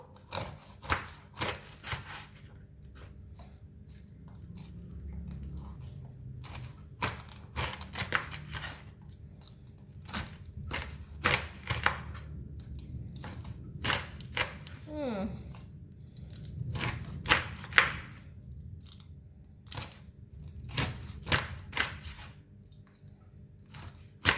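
Crisp, crunchy crackles and snaps come in irregular bursts as a knife saws through crispy pork belly crackling, close up, with soft background noise between cuts.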